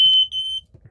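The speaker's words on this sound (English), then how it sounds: "Smoke alarm." A smoke alarm in a camper van beeps twice in quick succession, a sharp piercing electronic tone, followed by faint low rumbling.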